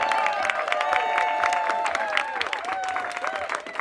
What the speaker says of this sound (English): can we have a warm round of applause for the life's work of Dr. Dale Bredesen?